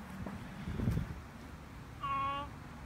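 A cat facing off against a snake gives one short, clear meow near the end, after a few seconds of soft rustling and movement nearby.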